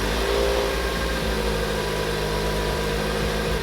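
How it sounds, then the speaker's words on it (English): A car engine idles after a cold start, a loud, steady low rumble with a faint vibrating hum that holds constant throughout and no talking. "I want to say cold start for the boys"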